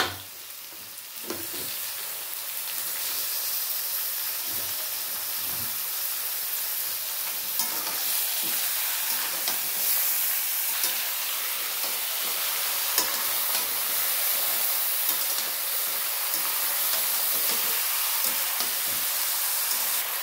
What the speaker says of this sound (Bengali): চিকেনগুলো দিয়ে খুব ভালো করে মিশিয়ে দিতে হবে